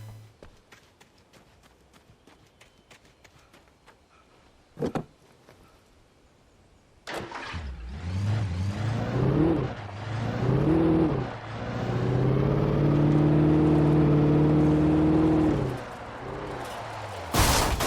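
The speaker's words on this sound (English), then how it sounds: "See, this is a drift car." A drift car in the Alan Wake video game on Xbox 360 starts up after a quiet stretch, then roars loudly with rising and falling revs and a steady, sustained engine drone.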